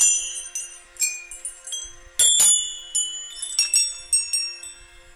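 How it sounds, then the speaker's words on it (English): Temple bells near Pithoragarh in Uttarakhand ring in scattered bright strikes, with a few louder clusters of overlapping tones that leave long shimmering decays, close by over an otherwise quiet setting. "that is only interrupted by the occasional sound of the temple bells"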